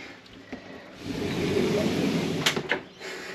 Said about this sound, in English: So you can close the shower door.